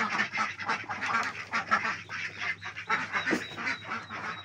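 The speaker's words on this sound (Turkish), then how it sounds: "Amerikan ördekleri, yaban ördekleri." A flock of Muscovy and wild ducks quacks and honks continuously nearby at a poultry farm, overlapping calls in a busy, rhythmic chorus.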